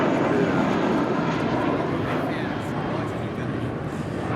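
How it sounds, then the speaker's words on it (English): A Spirit Airlines Airbus A320 departs from Los Angeles International Airport, a loud, steady jet roar with slight shifts in intensity as it passes. "This is Spirit 2330 departing to Baltimore on an A320."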